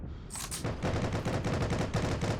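Rapid automatic gunfire rattles in quick, dense bursts from the video game Heroes & Generals, loud and close with no talking over it.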